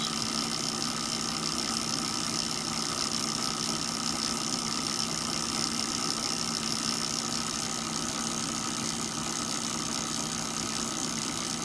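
A new ultra-low-RPM generator runs at a steady idle, giving a continuous even hum with a faint mechanical drone and no change in pace, heard alone at moderate level.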